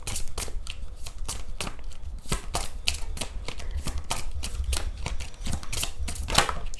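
A deck of tarot cards is shuffled by hand before a card is drawn, producing rapid, crisp riffling flutters in close succession, steady and fairly loud throughout with no talking.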